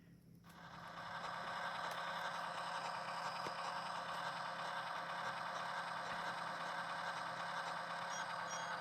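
Steady, continuous engine drone of a moving removal truck in a Pokémon game, loud and unbroken after a quick fade-in, with no talking over it.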